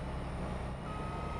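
Faint steady reversing beeps from a truck in Farming Simulator 22, a continuous low hum of engine underneath, quiet and distant with no talk.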